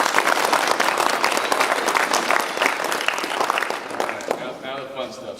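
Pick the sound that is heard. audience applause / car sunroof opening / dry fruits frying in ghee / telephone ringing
audience applause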